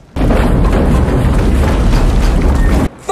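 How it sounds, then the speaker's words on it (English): Explosions and fire inside a burning coliseum in the film Double Team: a loud, continuous roar of blasts and flames starts abruptly and cuts off sharply near the end. "with all these explosions and all this fire"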